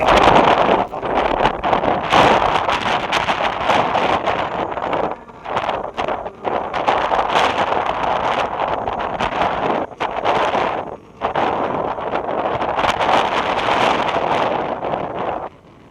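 Strong, gusty wind at Roxas Port roars and buffets the microphone continuously, loud and rough with brief lulls between blasts.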